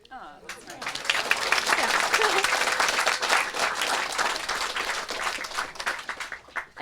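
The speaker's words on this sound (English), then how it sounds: "Yes, you can clap." Sustained audience applause and clapping at an evening book event about union organizing, a dense, loud crowd of hands rising quickly and holding steady for several seconds before thinning out.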